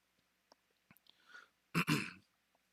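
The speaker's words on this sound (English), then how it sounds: "when I sneezed, like, everything came loose in my sinuses" A single sneeze bursts out after a short intake of breath and a few small mouth clicks. It is loud and close in a quiet room, followed by a brief wet exhale.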